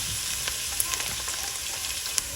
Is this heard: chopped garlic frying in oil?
yes